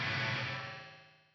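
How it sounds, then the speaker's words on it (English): An Axe Fx III Megatap delay on a distorted guitar sustains a wash of repeating echoes that fades gradually over about a second before cutting off. "this Megatap delay is wild"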